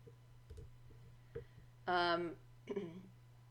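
A few soft, isolated mouse clicks tick against a quiet room hum while saving a file in Photoshop, with a brief vocal sound between them.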